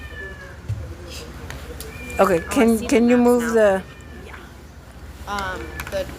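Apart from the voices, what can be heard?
cat meowing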